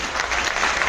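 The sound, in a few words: audience applause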